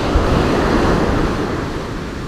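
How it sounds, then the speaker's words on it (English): Big sea waves break on a murky beach, giving a loud continuous rushing surf with wind noise and no voices. "But there's one or two of these waves here,"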